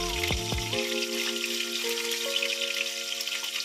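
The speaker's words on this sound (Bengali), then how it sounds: "এখানে মাছ ভাজা হচ্ছে" Fish frying in a pan, a steady hissing sizzle running throughout, with a tonal whine and a few brief low bumps near the start, no talk.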